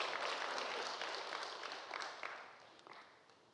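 A church congregation applauds together, a dense burst of clapping that starts full and fades gradually over a few seconds, with no voices on top.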